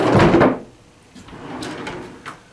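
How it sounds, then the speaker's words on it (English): A wooden shop drawer slides with a loud scraping rumble as it catches on the floor, followed by quieter rubbing and a couple of light knocks as it moves back. "the bottom drawer does kind of catch on the ground over there"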